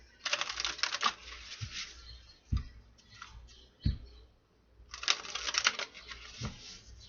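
Royal Dark Tarot cards riffle and snap in quick shuffling bursts, crisp and close, with short pauses and soft taps between the runs.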